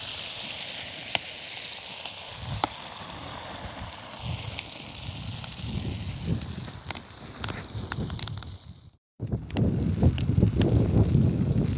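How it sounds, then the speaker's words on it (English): Bread toasts in butter in a pan for a steak sandwich, a continuous close sizzle with sharp crackles; a brief gap near the end, then the frying swells louder. "I'm going to put our bread on and just toast that up in an extra bit of butter now."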